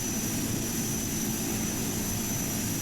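Steady propeller and engine drone from a de Havilland Canada DHC-6 Twin Otter in the GeoFS flight simulator as the throttle is cut, a dense continuous hum that holds evenly at moderate level with no talk over it.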